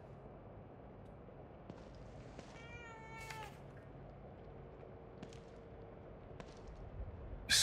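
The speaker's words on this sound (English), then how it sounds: "A cat." A single drawn-out cat meow rises clearly above a low, murky ambient drone in The Evil Within 2, with a few faint clicks scattered around it.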